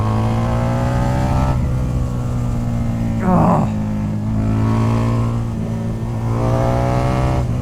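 A Harley-Davidson motorcycle built by a supercar maker, its engine revving hard above 5,000 RPM: a loud, continuous, close roar with rising and falling pitch and a short exclamation partway through.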